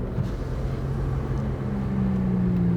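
BMW M3 CS engine droning steadily at Canadian Tire Motorsport Park during a track session, a loud continuous rumble with a rising tone toward the end, no talking.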